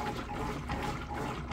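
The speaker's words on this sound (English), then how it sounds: "The agitator in the middle is doing an excellent job pulling those clothes down." Kenmore top-load washer agitator churning clothes in deep water: continuous sloshing and swirling water, steady and fairly loud, close by with no talking.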